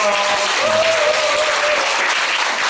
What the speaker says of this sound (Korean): 다시 한번 뜨거운 박수요.